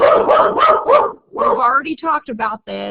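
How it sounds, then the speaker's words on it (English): A dog barks and yips in the background of a live online lecture, its bursts mixed in with a lecturer's close, steady talking. "That's my dog barking in the background."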